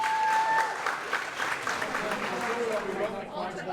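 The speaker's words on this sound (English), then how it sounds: "So please give them a big round of applause for what they do." Audience applause at a charity event honouring an organization that supports families of fallen firefighters and policemen, a sustained round of clapping from many people with some voices mixed in, gradually tapering.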